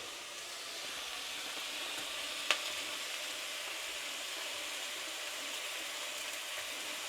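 Pasta frying in a pan with a drizzle of olive oil gives a steady, soft hiss throughout, with one brief sharp crackle partway through and no voices.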